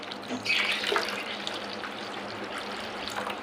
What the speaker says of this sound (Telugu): ఇంకా కొంచెం వాటర్ యాడ్ చేసుకుందాం